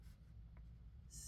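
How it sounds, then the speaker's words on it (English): Handwritten notes jotted with a pen on paper, a short faint scratch of scribbling strokes, quiet and close with no talking over it. "Let me write that down."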